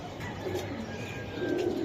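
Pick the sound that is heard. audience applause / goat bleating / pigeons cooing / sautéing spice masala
pigeons cooing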